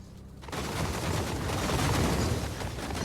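A volley of handgunner gunfire in the medieval battle game Total War Medieval Kingdoms, a sudden loud crackling burst of many overlapping shots that rolls on as a sustained rumbling fusillade.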